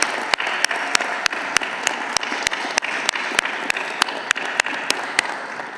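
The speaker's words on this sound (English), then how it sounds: "wave and applaud them as you say thank you for their help" High school graduates at a 2021 graduation ceremony applaud their families and guests: steady crowd clapping, fairly loud, with a few sharp individual claps standing out in a regular rhythm.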